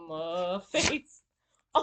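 A child sneezes right after a stretch of talking, one sharp burst close to the mic followed by brief quiet, with a voice starting again at the end.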